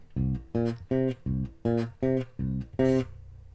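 A muted thumb bass guitar riff plays eight short, punchy plucked notes in an even rhythm, deep and clear with no talking.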